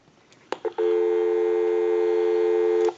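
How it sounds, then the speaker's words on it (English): A Western Electric 202 rotary desk telephone gives a few clicks as the line opens, then a steady, loud dial tone hums continuously for about two seconds before cutting off with another click. "give you some dial tone"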